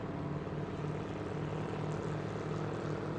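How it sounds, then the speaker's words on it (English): A race car's engine fires up and the driver pumps the throttle, heard at a speedway as a steady droning roar with rhythmic pulsing, moderately distant and continuous throughout. "As he fires it up and drives away, he's just pumping the throttle there"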